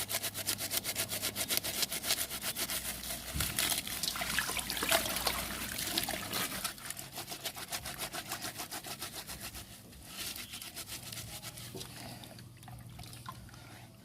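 Juice from washed yanang leaves being poured in an outdoor Thai cooking setting, a steady liquid trickle and splash set against a low engine-like hum, close and continuous.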